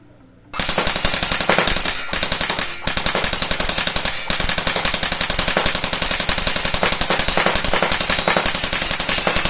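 A TG G36C gel blaster on a 7.4-volt battery fires full-auto after a quiet start: a rapid, even mechanical rattle of shots runs loud and close, broken by two brief pauses.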